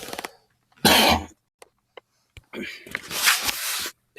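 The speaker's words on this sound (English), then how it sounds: "excuse me, I need to cough." A single loud cough rings out close up, followed by rough throat-clearing and a second harsh cough amid short gaps of quiet.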